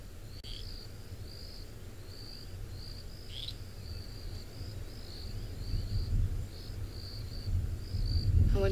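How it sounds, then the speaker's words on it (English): Frogs calling at night on a safari during rain: a steady train of short, high, repeating chirps at moderate distance over a low, constant rumble of wind and rainfall. "There are a few frogs going."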